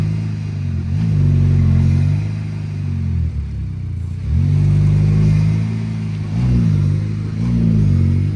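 A Volkswagen Golf Mk5 engine fitted with a sport air filter revs repeatedly, deep rumbling pitch rising and falling in several pulses, loud and close with no talking.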